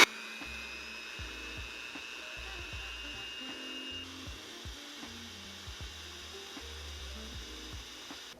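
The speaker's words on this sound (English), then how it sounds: "I'm using our hand mixer, which is what I love to use for our chiles rellenos" A hand mixer whirs steadily as it beats egg whites to soft peaks, a faint continuous motor hum broken by repeated rhythmic knocks of the beaters against the bowl, with no talking.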